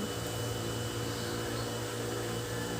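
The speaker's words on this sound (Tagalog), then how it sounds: "nakasindi na yung blower" A hair blower runs steadily in a room, a continuous close whirring hum with a constant airy hiss and a tonal drone, unchanging throughout with no talk.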